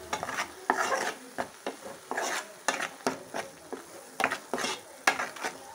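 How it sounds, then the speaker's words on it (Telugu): Onion paste sizzles in a pan while a utensil scrapes and stirs it in repeated rhythmic strokes, close up. It is being cooked for an Andhra fish curry. "ఉల్లిపాయ పేస్ట్ అనేది బాగా వేగుతుంది చూడండి."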